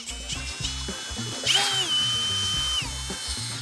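A power drill drives an enhanced fascia screw into composite decking fascia board, its motor whining steadily up close for a couple of seconds after some lower mechanical rumbling.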